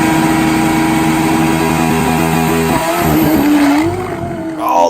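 Turbocharged Kawasaki KZ drag motorcycle with a J model head, 1260 cc and a Ray J turbo, its loud engine roaring steadily near the mic, then its pitch wavering and breaking off with tire grip and skid noise toward the end.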